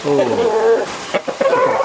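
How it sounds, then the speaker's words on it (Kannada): Chickens at a home flock of more than fifty birds cluck and call loudly up close, with drawn-out calls followed by short choppy clucks. "ಈ ಕೋಳಿಗಳು ಜೋರು ಇರ್ತವೆ"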